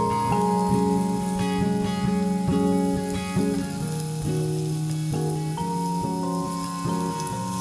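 Grated carrot and cabbage frying in a pan with onions, a steady sizzle with intermittent stirring scrapes, close and continuous behind background music.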